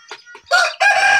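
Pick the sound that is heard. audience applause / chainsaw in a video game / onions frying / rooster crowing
rooster crowing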